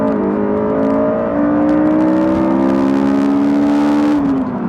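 A car launching hard in a drag race between a BMW Z4 with a straight-six and a Honda S2000, its engine loud and close, revving with rising pitch through the gears.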